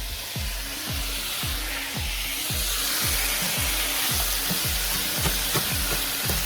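Chopped red onion from the freezer sizzling in a pan for homemade spaghetti sauce, a steady loud hiss with a rhythmic low thumping running under it, close up, with no speech.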